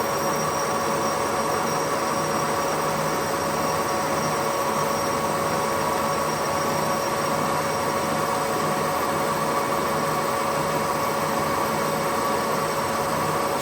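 A machine tool cuts metal at about 1.5 mil depth of cut, producing a continuous, even hiss with a faint steady whine throughout and no speech.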